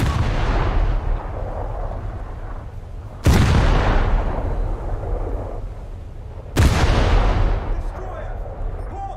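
Naval artillery shells fire in a boat combat game, with three heavy booms spaced about three seconds apart, each rolling off in a long fading rumble, under muffled voices.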